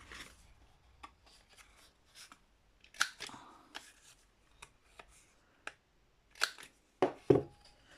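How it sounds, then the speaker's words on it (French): Scissors snipping the two corners off a piece of paper or card while making a gusseted storage pouch, heard as a few sharp close cuts and rustles, mostly spaced apart with a denser cluster near the end. "il ne faut pas oublier ici de couper les deux angles."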